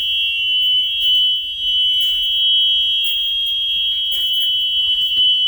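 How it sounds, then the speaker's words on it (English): A school bus emergency roof hatch buzzer drones shrilly without a break for several seconds, loud and nearby, steady in pitch over quiet background noise. "I can hear a buzzer."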